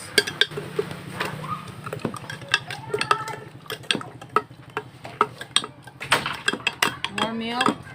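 Milk stirred into cantaloupe melon juice with a spoon, giving repeated clinks and taps against the container in an irregular rhythm, close and fairly loud, with faint voices in the background.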